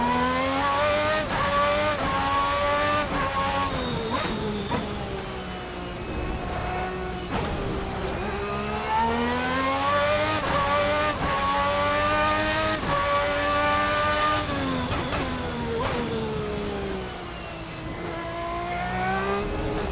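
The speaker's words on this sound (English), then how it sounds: "Obviously the engine, the V12, has a lot less torque, so it needs to be kind of kept spinning more." A Formula 1990 race car V12 engine in a racing video game revving hard, rising and falling in pitch through repeated gear changes, loud and continuous with a harsh, layered whine.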